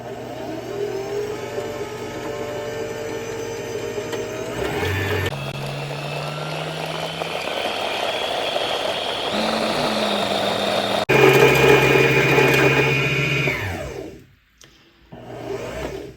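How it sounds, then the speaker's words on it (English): Sewing machine motor whirring steadily as thread winds onto a bobbin, a close mechanical hum that shifts pitch a few times, surges briefly, then winds down and stops near the end. "I'll continue winding until the bobbin's full"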